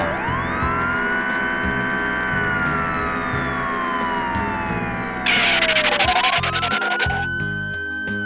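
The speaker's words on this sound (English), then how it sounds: "Police car." A loud cartoon police car siren sweeps slowly in pitch, then breaks into a fast warbling yelp, steady and close throughout.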